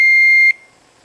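An Arduino circuit's beeper sounds a single steady, high electronic tone for about half a second, then cuts off abruptly and leaves near silence.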